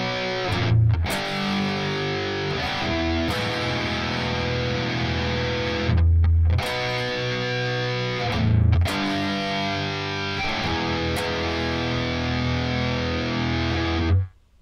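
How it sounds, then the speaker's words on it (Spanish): Heavily distorted electric guitars play a song with loud, sustained chords and a dense wall of sound, broken by a couple of short pauses before stopping abruptly near the end. "Para las guitarras con distorsión"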